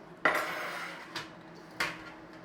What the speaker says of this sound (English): Now, I'm going to put 2 in the oven because we want to crack on and get it done.